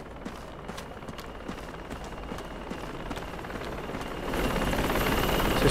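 Helicopters in the Project Reality military game, a continuous thudding rotor roar with rapid beats, building louder toward the end.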